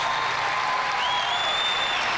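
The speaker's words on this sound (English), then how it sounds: "Crowd loves this performance by Andrei Kratsov to date" Crowd applause at the 1998 Commonwealth Games men's gymnastics apparatus finals, a dense, steady wash of clapping filling the arena throughout, with no voices standing out.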